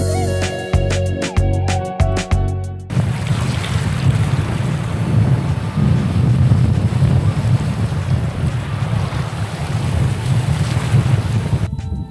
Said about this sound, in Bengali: নানান রঙের পাখি, কেউ আবার বাতাসের অপরূপ মিশ্রণ দেখা যায় এই সমুদ্র সৈকতে।